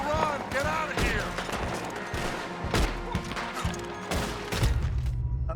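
Dense video-game gunfire crackles and thumps in irregular rapid bursts, mixed with mechanical clatter and distorted game voices shouting over the shooting.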